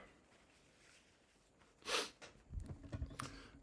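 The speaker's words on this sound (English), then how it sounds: "that was me blowing my nose live on the internet" A person blows their nose once in a quiet room: a short, forceful, breathy honk that stands out clearly. Softer shuffling and handling noises follow.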